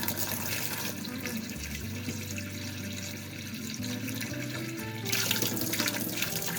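Hot water runs steadily from a tap into a sink, a continuous close hiss and gush that briefly softens mid-way and then surges stronger toward the end, no voices.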